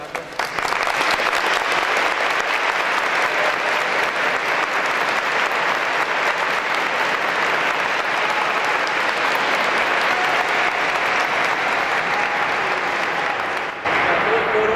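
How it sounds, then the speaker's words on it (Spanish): An audience at a choral concert of Vivaldi's Gloria applauds the conductor, producing loud, dense, sustained clapping that fills the whole stretch and cuts off abruptly near the end. "Quisiera también un fuerte aplauso para el maestro Carlos."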